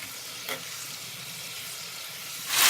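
Masala chicken sizzling and frying over high heat in a pan, a steady close hiss with a soft stirring scrape near the start and a louder surge of sizzle at the end.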